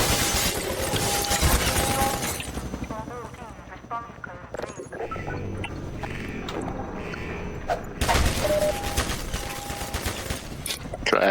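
Half-Life 2 gunfire rattles in bursts with shattering impacts and mechanical clatter, loud at the start and end with a quieter stretch in between, while a voice talks over parts of it.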